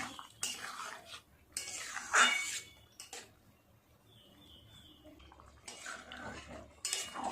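A metal spatula scrapes and presses against the bottom of a wok while stirring sago khichuri with vegetables, giving intermittent clinks and scrapes with quiet gaps between them.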